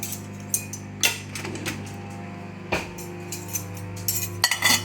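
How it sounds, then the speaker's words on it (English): A knife and fork are picked up and handled in a kitchen during beans-on-toast preparation, producing several sharp metallic clinks and taps at irregular intervals over a continuous low appliance hum. "Let's get a knife and fork."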